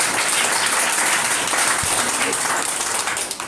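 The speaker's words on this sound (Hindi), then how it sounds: "अगर मेरी बात सही है तो एक ताली बजा के अपना जवाब दे सकते हैं" An audience at a motivational business seminar answers with a burst of applause, clapping that overlaps with someone talking.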